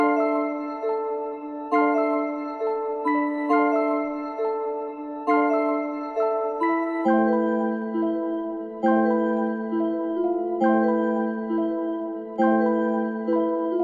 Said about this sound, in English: first I started with this bell and I just made this pattern